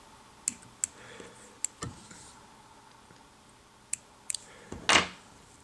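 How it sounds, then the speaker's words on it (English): Scissors trimming excess McFlylon wing material while tying a mayfly emerger fly, a handful of quiet sharp snips and clicks spaced irregularly, close up in a quiet room. "I'm going to trim out all that excess"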